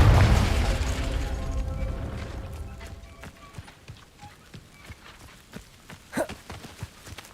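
A Confringo blasting curse explodes in the video game Hogwarts Legacy, a heavy booming blast at the start that rumbles and fades over several seconds, followed by scattered pops and clattering debris.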